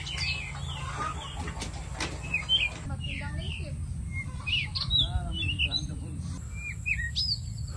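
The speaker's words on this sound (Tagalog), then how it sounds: "sana narinig nyo yun yung mga huni ng ibon lang" Several birds chirp and tweet in short bursts over a low, steady background hum, with brief murmured talk early on.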